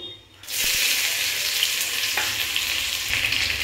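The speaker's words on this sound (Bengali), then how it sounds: "একটা তেজপাতা, দুটো শুকনো লঙ্কা আর 5 ফোড়ন আমি গরম তেলে দিয়ে দিচ্ছি" A bay leaf, dried chillies and five-spice seeds hit hot oil with a sudden loud sizzle after a quiet moment, then settle into a steady, close frying hiss with faint pops.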